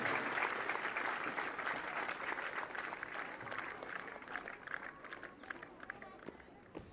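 Audience applause for a winning trainee at a passing out parade at the SSB academy in Srinagar: dense, steady clapping from a crowd that holds loud for several seconds, then thins slightly toward the end.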